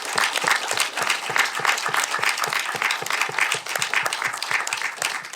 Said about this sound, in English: Let's please give them a big, big round of applause.